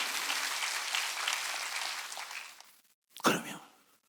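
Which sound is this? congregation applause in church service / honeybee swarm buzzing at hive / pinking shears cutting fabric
congregation applause in church service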